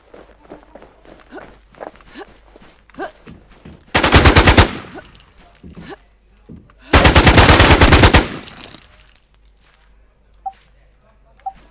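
Video game gunfire comes in two long, loud automatic bursts, with scattered footsteps and small clicks in the quieter stretches before, between and after them.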